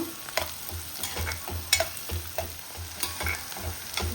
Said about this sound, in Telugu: బిర్యానీ ఆకులు మనం ముందే వేయాలి, నేను మర్చిపోయాను, ఇప్పుడు వేస్తున్నాను. కాకపోతే ఉల్లిపాయలతో పాటు బాగా ఫ్రై అయిపోతాయి అవి కూడా.